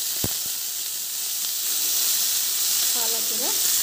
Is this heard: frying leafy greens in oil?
yes